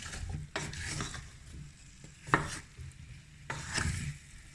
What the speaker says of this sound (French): On va remuer ça un petit peu.